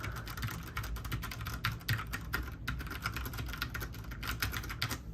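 Rapid, steady typing on an IQUNIX F96 mechanical keyboard, dense clicky keystrokes close up with a brief pause midway, no voices.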